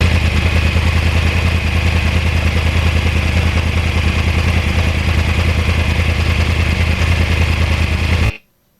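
A 2009 Yamaha R1 with a crossplane engine, ridden along back roads: a continuous loud engine drone with wind rush at steady speed, ending abruptly.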